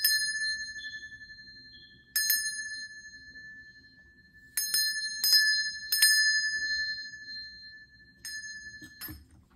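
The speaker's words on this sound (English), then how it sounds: "I'm going to ring this bell." A small metal bell struck several times at irregular intervals, each bright ring sustaining and fading slowly in a quiet room, a few strikes close together.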